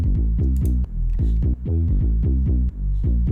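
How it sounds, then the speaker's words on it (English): Synth bass from a modified Pigments preset plays a punchy, repeating pattern of short low notes in a steady rhythm, loud and alone with no talking. "The bass sounds like this."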